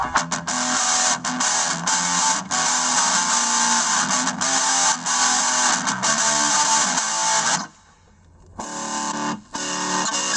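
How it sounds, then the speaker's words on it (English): Heavily distorted electric guitar through the metal distortion setting of a Boss ME-30 multi-effects pedal plays dense, saturated chords and riffs with a harsh, buzzing edge, briefly cutting out before resuming. "There's a metal distortion."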